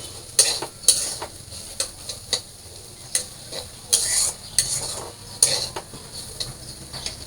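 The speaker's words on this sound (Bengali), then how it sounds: "এখানে আলু ভাজি করতেছি" A metal utensil stirs and scrapes potato fry in a pan with irregular clinks and taps over a soft background sizzle, close by and without talk.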